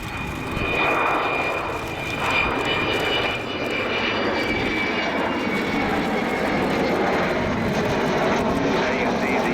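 An Avro Vulcan bomber takes off at an air show with its undercarriage retracting, its engines producing a continuous heavy roar that stays loud and steady throughout while a commentator talks over it.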